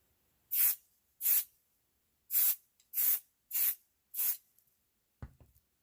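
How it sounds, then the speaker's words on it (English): Six short, sharp hisses of spray-baste adhesive onto fabric come in an even, close sequence with brief gaps between them, then a soft handling thump closes the sequence. "I'm just going to do a little spray basting"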